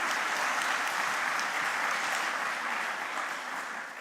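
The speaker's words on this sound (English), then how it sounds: "a big applause for him" Audience applause at an academic conference session, a steady, dense wash of clapping from a large crowd that stays loud throughout and tapers only slightly at the end.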